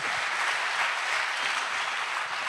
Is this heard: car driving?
no